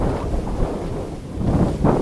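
Strong wind buffets the microphone on Makapaya Hills in San Andres, Quezon, a loud rumbling low roar that swells and gusts over a couple of seconds.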